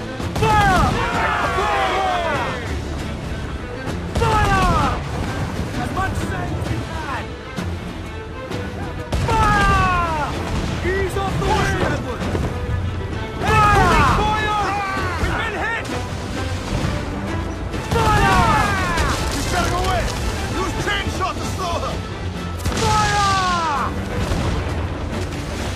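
Ship cannons fire in Assassin's Creed IV: Black Flag during a naval battle, heavy booming volleys arriving in repeated rounds several seconds apart, mixed with shouted crew voices and loud battle noise.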